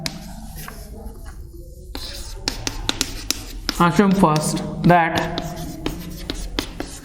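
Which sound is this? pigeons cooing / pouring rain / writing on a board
writing on a board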